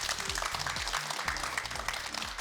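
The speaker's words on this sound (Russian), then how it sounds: "Спасибо, аплодисменты." Audience applause at a youth careers forum on finding jobs with industrial companies: dense, steady clapping from a crowd that fills the whole stretch at an even level, with a low murmur of voices underneath.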